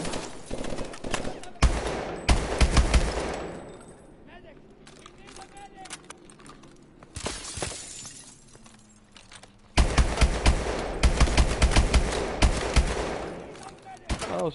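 Loud automatic gunfire from the video game Call of Duty: Advanced Warfare, two long rattling bursts separated by a quieter stretch with scattered shots and game ambience, someone talking briefly in between.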